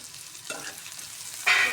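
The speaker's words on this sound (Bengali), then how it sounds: "ডালে বাগার দিচ্ছি" Onion, garlic and green chili frying in hot oil for a dal tempering, a steady close sizzle that brightens and grows louder near the end as the pan is stirred.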